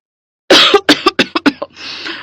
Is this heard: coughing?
yes